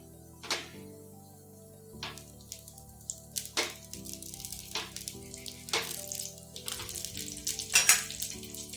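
Sindhi lola flatbread cooking in pure ghee on a pan, with soft sizzling and scattered clinks and scrapes of a utensil, fairly quiet and close, with no talking.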